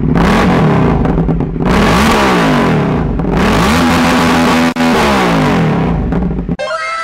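Motorcycle fitted with a custom Akrapovic exhaust revving hard in repeated loud surges, each throttle blip climbing and falling back, heard up close with no talking.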